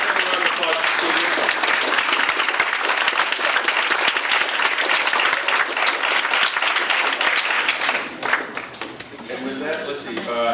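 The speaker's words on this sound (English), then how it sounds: "Round of applause for Sylvia." A banquet audience claps loudly and continuously, dense applause that tapers near the end as a voice begins speaking over it.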